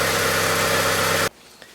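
Honda Civic 1.7 EL with automatic transmission idling after an ATF change, a steady close engine hum with low rumble that cuts off abruptly near the end, followed by near silence and a faint click.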